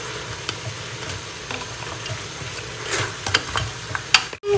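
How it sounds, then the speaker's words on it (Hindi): Onion frying in a pan for aloo mutton, a close, continuous sizzle with scraping and clinking of a utensil stirring it, growing busier toward the end. "अब हम इसमें डालेंगे प्याज, थोड़ा सा फ्राई करेंगे।"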